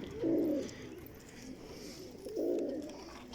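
Two soft, low pigeon coos, one near the start and one after a short pause, rounded and throaty against a quiet background.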